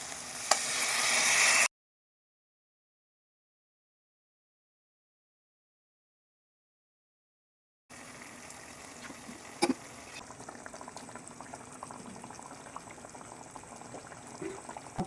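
Crab curry bubbles and sizzles in a pan after tamarind juice goes in, a loud close simmer that cuts to silence for several seconds and then returns as a steady boil with a few sharp clinks.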